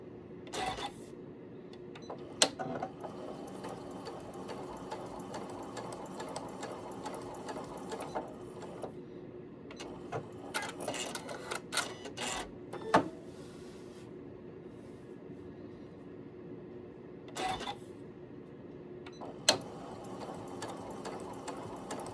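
A sewing machine runs at very slow speed with a short 1.8 stitch length, sewing an anchoring seam; a steady, quiet mechanical whir continues throughout, broken by a few sharp clicks and knocks.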